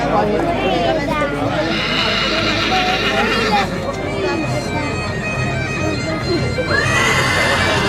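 Horses neigh and whinny at a crossbred horse show during a San Marcos livestock fair in Noia, with loud, repeated calls over crowd babble and a voice speaking in Spanish.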